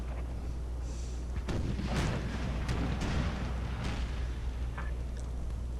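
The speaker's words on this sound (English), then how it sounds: "Banz's cannon getting really nice shots." Cannon artillery firing in an American Civil War mod battle game, several deep booming shots spaced a second or so apart over a low rumbling battlefield din, fairly loud and without voices.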